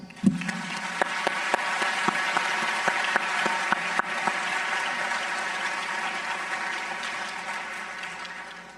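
A large graduation ceremony audience applauds faculty and staff at the 2024 iSchool graduation, a broad, even wash of clapping that holds steady across the whole stretch, with a few sharper claps near the start.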